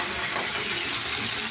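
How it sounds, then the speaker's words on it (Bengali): Fish sizzles in hot oil in a wok-style kadai, a steady dense hiss of frying that runs without a break and without voices. "ভাজা হচ্ছে"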